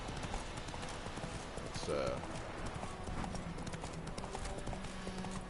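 Horse hooves clip-clopping at a gallop in The Witcher 3, a steady rhythmic beat with a brief whinny, under a man's speech.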